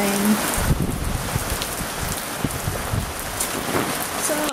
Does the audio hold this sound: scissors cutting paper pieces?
no